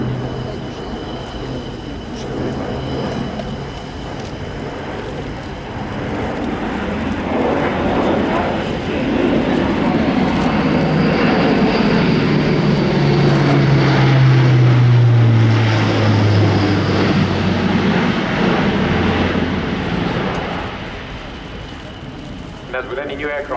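An Airbus A400M Atlas military transport flies past at an air show, its four turboprops building to a loud, droning roar that peaks mid-pass and fades, while a commentator talks over it.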